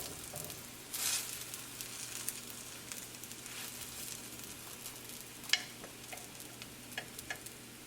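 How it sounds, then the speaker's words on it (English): A paratha made from leftover dal fries in oil on a pan, giving a soft, fairly faint sizzle with a brief louder hiss early on and a few light ticks. "Added the oil on the paratha."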